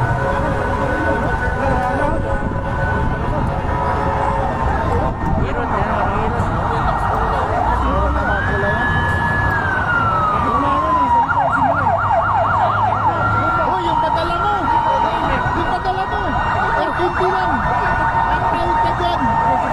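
A fire truck siren at a fire at a bus terminal in Quezon City rises and holds, then warbles rapidly amid traffic rumble and voices talking, sounding moderately distant.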